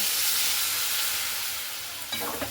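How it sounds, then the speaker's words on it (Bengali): Soya chunks in a frying pan hiss and steam as water is added and stirred, a loud sizzle that fades slightly before brief scraping stirs near the end. "জলটা দিয়ে খুব ভালো করে এখানে আমি নাড়াচাড়া করে নিচ্ছি।"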